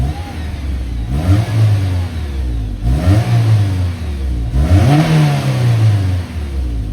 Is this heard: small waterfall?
no